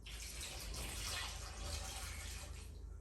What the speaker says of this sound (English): I have decided to go ahead and add another 2 cups of water to this.